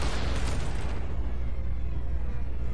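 An explosion in Call of Duty Black Ops, a loud dense blast with a rumbling low roar sustained throughout, alone without talk.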